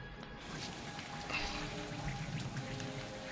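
Rain patters steadily in Marvel's Guardians of the Galaxy, a soft continuous hiss of drops on surfaces, faint and even throughout.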